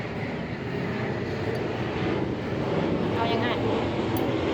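An airplane passes overhead as a broad, steady roar that builds slightly over a few seconds, with people talking nearby.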